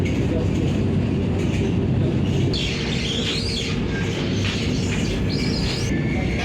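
Vande Bharat express train running on the Secunderabad to Tirupati route, a loud steady rumble and rattle filling the whole stretch, with faint bird-like chirps near the middle.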